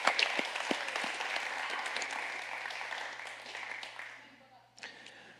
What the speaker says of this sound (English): Let's give them a round of applause, because they do a great job.